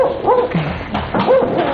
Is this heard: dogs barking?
yes